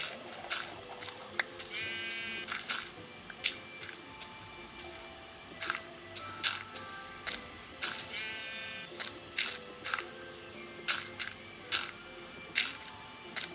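Sheep in the Minecraft video game bleat several times among scattered clicks and short game sounds, the bleats repeating at intervals and fairly clear against a quiet background.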